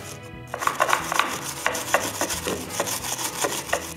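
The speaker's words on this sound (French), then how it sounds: "je vais me concentrer à nettoyer toutes mes lames de scie" Rhythmic scrubbing and rubbing against metal saw blades being cleaned, repeated strokes at an even pace, close and moderately loud, with no speech.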